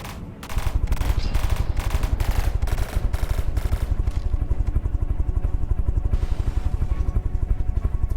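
Extremely rapid gunfire from a fast-firing aircraft weapon, well over a thousand rounds per minute, a loud continuous buzzing stream of shots running unbroken for several seconds.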